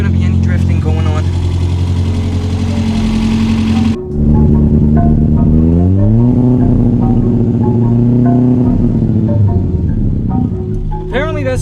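A car engine revving hard while stuck in snow, with sustained loud engine drone and pitch rising and falling as the throttle changes, close by throughout.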